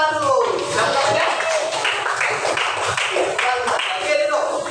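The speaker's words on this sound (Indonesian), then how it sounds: "tepuk tangan dulu" Children in a classroom clap their hands together in rhythmic bursts, loud and close, with their voices chanting and talking over the claps throughout.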